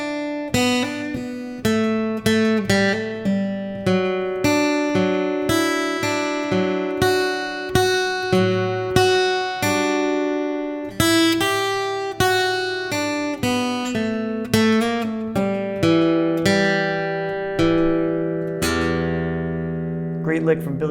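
Billy Strings-style guitar lick in open E position, played as a bright, quick run of plucked notes with ringing open strings, close and clear with no talking, ending on a sustained note.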